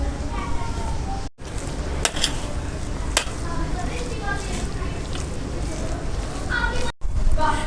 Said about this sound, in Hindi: अब हम इसमें ऐड कर देते हैं सारा मसाला, और इसको ऐड करने के बाद अच्छे तरीके से हिला लेते हैं।